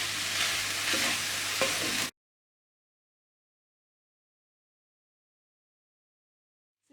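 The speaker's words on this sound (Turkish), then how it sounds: "Daha da lezzetli olması için yaklaşık bir yemek kaşığı kadar tereyağı koyuyorum." About a tablespoon of butter going onto meat frying for saç kavurma, a loud close sizzle with stirring for about two seconds, then sudden silence.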